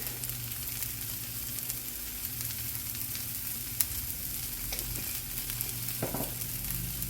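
Onion fries in a pan of spiced oil, a steady close sizzle and crackle that holds through the whole stretch, with a few sharper pops and a brief scrape of stirring near the end.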